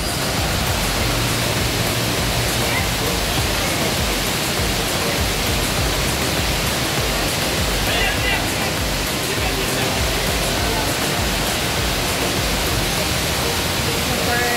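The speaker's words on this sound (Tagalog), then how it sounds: "Just enjoy yung falls." Mandai waterfall roaring as a steady, dense broadband rush, loud and unbroken throughout with no pauses, heard by a tourist attraction crowd with faint background sound.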